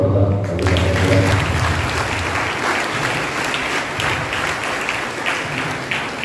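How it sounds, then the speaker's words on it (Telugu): A church congregation at a Catholic gospel reading claps loudly and steadily for several seconds. The applause is dense and sustained, and the tail end of a voice is heard at the start. "ఒకసారి గట్టిగా చప్పట్లు కొడదాం"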